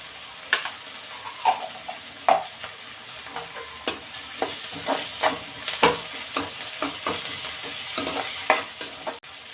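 Ginger-garlic paste frying in a pan for a fish-roe fry, a close hiss broken by repeated sharp spoon scrapes and taps against the pan at an irregular rhythm, no voices.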